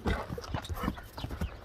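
A horse's hooves clop in a steady, even rhythm, moderately close but fairly soft, with no talk over them.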